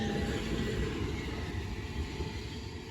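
A train rolls toward the station at Headcorn, a continuous low rumble and broadband roar that holds steady and fairly distant throughout, with no voices over it.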